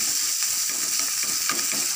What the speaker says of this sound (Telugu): పాన్ పెట్టేసుకొని ఆయిల్ వేసేసుకుందాం కొంచెం ఆవాలు జీలకర్ర కొంచెం ఆనియన్స్ వేసేసుకుందాం పచ్చిమిర్చి